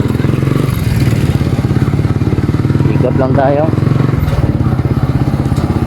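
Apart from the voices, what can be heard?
motorcycle engine running during a road trip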